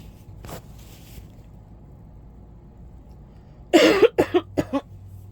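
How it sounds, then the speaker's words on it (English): A cluster of several sharp coughs bursts out near the end after near-silence, with a couple of faint earlier sounds. "no coincidence that I coughed there"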